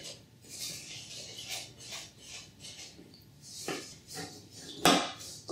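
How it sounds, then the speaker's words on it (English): Flour being mixed into creamed butter and sugar in a bowl for biscuits: soft scraping and rubbing strokes with occasional clinks of utensil on bowl, fairly quiet, with one sharper knock near the end. "now we just need to mix in our flour into the butter and sugar mix"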